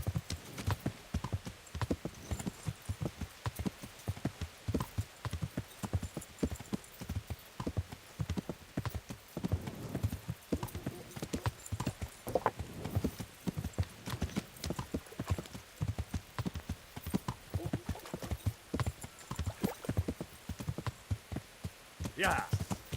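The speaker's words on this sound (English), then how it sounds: "my fine steed, bring me hither and thither." Rhythmic hoof clip-clop of a horse trotting steadily throughout in a video game, with occasional talk over it and a brief whinny.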